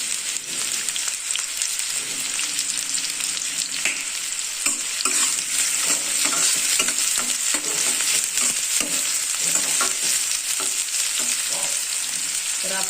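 Sliced onion frying in hot oil for a spicy village-style mutton curry, a loud, close, continuous crackling sizzle with spatula stirs and scrapes throughout, no speech.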